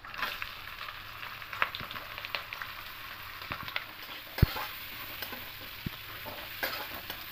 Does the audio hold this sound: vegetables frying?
yes